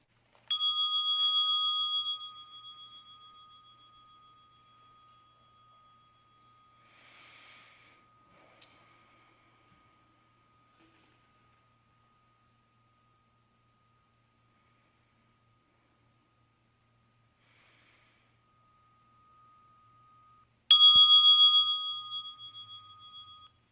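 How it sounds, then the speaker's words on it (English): A bell struck twice at a community group's kickoff gathering, each strike a bright, clear ring that slowly fades, separated by a long quiet stretch with no talk. "I'm going to ring the bell now."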